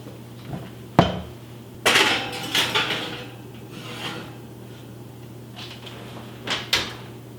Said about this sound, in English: Now let's pop this baby in the oven